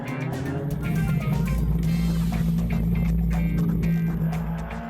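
Rally cars accelerating hard around the Salzburg Ring circuit, a loud, continuous engine roar with shifting revs and faint tire noise, heard from fairly close.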